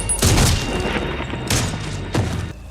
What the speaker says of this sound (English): Gunshot, it's all over.